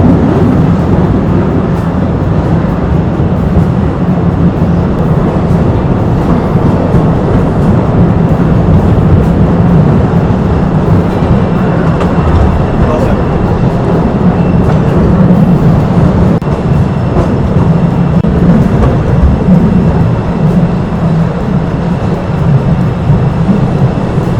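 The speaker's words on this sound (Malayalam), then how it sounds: "ഭൂമിക്കടിയിലൂടെ ഏകദേശം അഞ്ച് കിലോമീറ്ററോളം ഈ ഒരു ട്രെയിനിൽ യാത്ര ചെയ്തുകൊണ്ടിരിക്കുകയാണ്" Steady, loud rumble of a tourist train running underground through Postojna Cave, Slovenia, a continuous low roar with rattling that never lets up, no voices over it.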